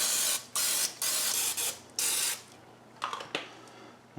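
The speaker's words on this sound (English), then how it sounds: "we're going to spray it with some Pam" Several short bursts of Pam non-stick cooking spray hiss onto a muffin pan in quick succession, close up, followed by softer clicks and light clatter.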